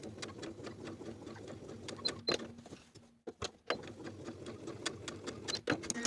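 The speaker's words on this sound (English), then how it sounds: "Now I'm going to sew right on top of my drawn line, starting and stopping my stitching about 1 inch away from the bottom of the V on both sides." A sewing machine stay-stitches dress fabric along the V of a Peter Pan collar dress front, running in a faint, fast patter of needle ticks with a brief stop in the middle.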